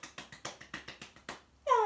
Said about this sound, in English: We clap our hands together because it's fun to do.